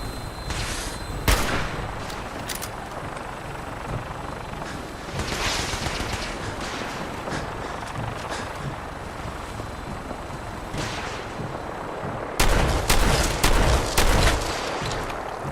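Gunner vertibird in Fallout 4 firing rockets, heard as repeated sharp bursts and booming blasts over a dense rumbling battle din, with a rapid cluster of shots near the end, loud and close.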